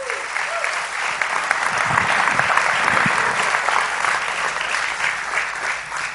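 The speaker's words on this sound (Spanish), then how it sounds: "Denle un aplauso al Señor." A church congregation claps together in sustained, dense applause that swells and holds for several seconds, with a few voices mixed in.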